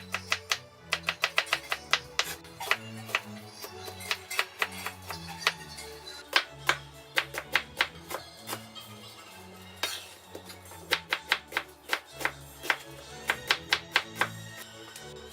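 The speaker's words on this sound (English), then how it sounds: "to cut the onions, you're going to cut them vertically, then you're gonna cut them horizontally." Knife chopping onions on a cutting board, vertical then horizontal cuts, heard as a rapid series of sharp close taps in uneven bursts with brief pauses.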